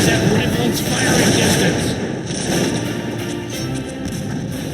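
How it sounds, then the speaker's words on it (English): In the strategy game Cossacks 2, Poland against Russia, a steady roar of battle noise with dull booms of cannon and artillery fire mixed into crackling shots, loud and continuous for several seconds. "We are under artillery fire."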